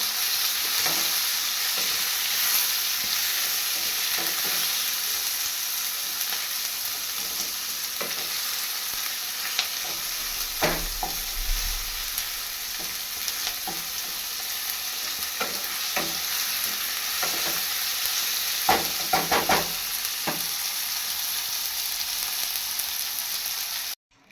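Steady, loud sizzling of eggs frying in a hot pan, continuous throughout with occasional crackles and pops.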